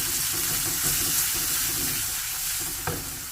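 Mustard seeds, turmeric and Kashmiri chili powder frying in hot oil for a tattikuttal, a steady close crackling sizzle with soft stirring scrapes and a sharp tap near the end.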